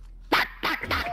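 A person imitating a dog's bark over Call of Duty voice chat, three quick, loud, throaty bark-like yelps close to the microphone.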